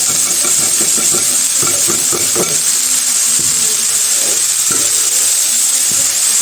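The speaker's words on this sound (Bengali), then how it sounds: "তো আস্তে আস্তে ভাজিটা করে নেব আর একটু হলুদ আর একটু লবণ দিয়ে দিব" Vegetables frying slowly in a home kitchen pan with turmeric and salt added, giving a steady, close sizzling hiss throughout with a few soft stirring knocks early on.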